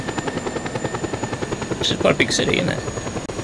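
Helicopter in Just Cause 2 with a steady rhythmic rotor chop throughout, joined midway by bursts of gunfire and explosions, while someone talks over it.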